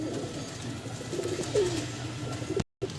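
A green female Bazi pigeon coos close by, a low soft burbling call over faint background hiss, cut by a brief drop to silence near the end.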